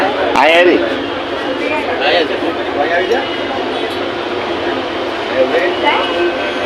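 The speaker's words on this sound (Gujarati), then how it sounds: "હાલો હવે ચાલુ થઈ જાય ટ્રેન" A crowded Mumbai metro train pulling away, a low steady rumble and whine of the carriage building under loud nearby conversation and passenger chatter, with a brief squeal near the start.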